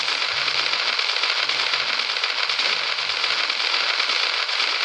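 Gunfire in the mobile game Last Day on Earth: Survival, a dense, continuous crackle of rapid shots that stays loud and steady throughout.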